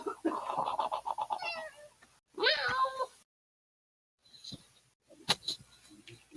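Cat meowing in a series of close, drawn-out calls separated by short pauses, with faint voices briefly heard around them.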